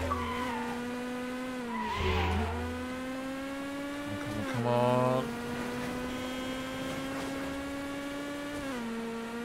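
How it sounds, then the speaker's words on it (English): Race car engines in the video game Midnight Club: Los Angeles, played on Xbox One, whine and drone steadily, with pitch shifts as gears change and a brief tire skid, while a voice mutters briefly. "I can hear his car."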